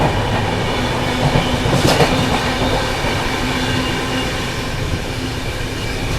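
The 12015 Shatabdi Express between New Delhi and Ajmer rumbles along steadily from onboard, with a continuous roar of wheels on rails and faint rhythmic clatter, no voices.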